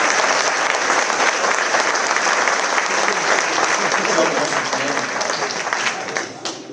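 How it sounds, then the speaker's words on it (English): Sustained audience applause at a band charity concert for a piccolo soloist, dense steady clapping filling the hall for several seconds before tapering off at the end. "Stand up and take a round of applause."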